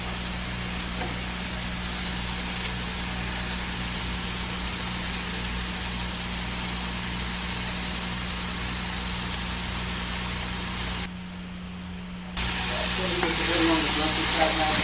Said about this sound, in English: I'm going to put that beautiful garlic and ginger in and just saute it for a few minutes